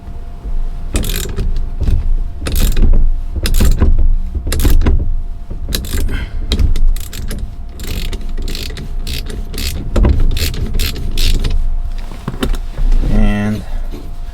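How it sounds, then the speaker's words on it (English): A steering wheel shaft being screwed in on a Cadillac DeVille during a steering wheel swap, loud close mechanical ratcheting and clicking in bursts with metallic rattles, continuing through the whole stretch. "So I'm going to screw the shaft in."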